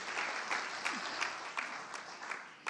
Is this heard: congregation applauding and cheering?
yes